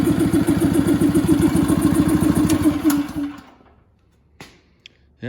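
A homemade gas-powered air compressor engine chugs loudly and steadily for about three seconds, then cuts out, leaving near silence broken by a couple of faint knocks.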